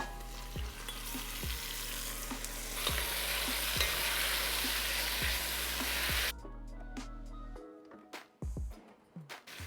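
Garlic and tomatoes sizzle steadily in a pan while being stirred, with recurring low clunks of a utensil against the pan through most of the stretch, then the frying quiets and the stirring knocks become sparser near the end.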